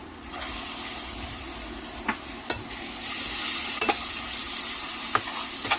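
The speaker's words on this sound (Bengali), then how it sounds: "আদা রসুন বাটাটা দেওয়ার পর এখন আমরা আদা রসুন বাটাটাকে কিছুক্ষণ ভেজে নেব" Onion and ginger-garlic paste fry in a pan for a village-style beef pasta, giving a steady sizzle with a few sharp clicks and scrapes from a utensil stirring against the metal.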